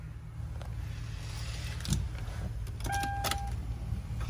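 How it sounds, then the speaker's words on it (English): A 2017 Hyundai iLoad van engine cranks and catches, then settles into a steady low idle. A few short electronic chime beeps sound near the end. The engine is heard alone, with no talk. "give the car a quick start now."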